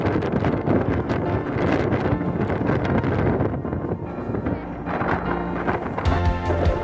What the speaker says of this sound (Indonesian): Anginnya terlalu kencang